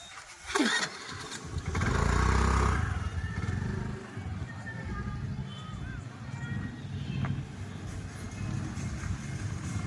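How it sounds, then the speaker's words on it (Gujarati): A Honda Activa scooter engine cranks and catches at close range, then runs steadily with a rising and settling drone as the scooter pulls away and rides on. "ગાડી સ્ટાર્ટ કરી લઈ"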